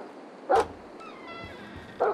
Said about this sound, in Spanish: Por ahí hay un perro.